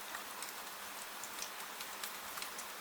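Steady rain falls in a dense, even hiss, with scattered nearer drops ticking faintly through the wash of sound.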